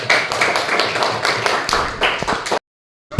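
Students in a classroom clap together in dense, lively applause for about two and a half seconds before it cuts off abruptly into silence.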